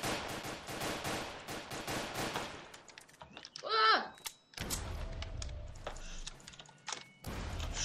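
Gunfire at creatures in a Russian short film comes as rapid, dense bursts of shots over the first few seconds. A shout follows, then more scattered bangs and thuds mixed with voices.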